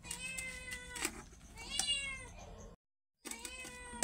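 A pet cat meows repeatedly at close range, with several drawn-out, rising cries, then a short silence before it starts again.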